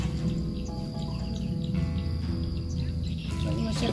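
Birds call outdoors beside a fishing spot, steady chirping and trilling that runs continuously over a dense insect-like drone, moderately loud and with no talk.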